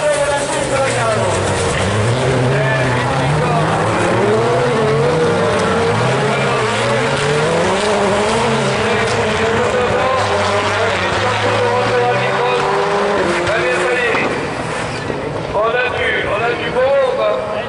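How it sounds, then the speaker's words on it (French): Rallycross supercars race around a track at a French championship round, engines roaring loudly and sweeping up and down through gear changes as they pass, while a commentator talks over the action. "On retrouve Anthony Malardin derrière, qui va prendre une pièce qui passe toute la largeur de la piste de la carrière."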